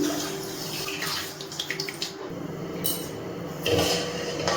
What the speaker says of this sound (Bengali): তাই 1 বাটি আমি জল দিয়ে দিচ্ছি